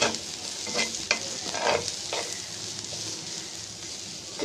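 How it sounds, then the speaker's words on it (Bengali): Hilsa roe bhuna with slit green chilies and chopped coriander being stirred in a pan: repeated scraping spatula strokes over a continuous close sizzle, with no voices. "এভাবে নেড়ে চেড়ে সবগুলোর সাথে মিশিয়ে নিতে হবে"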